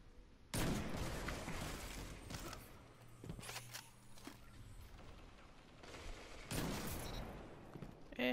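Sniper rifle shots in Destiny 2 Crucible multiplayer, two heavy broadband cracks several seconds apart with ringing tails, amid game mechanism clicks and ambient noise.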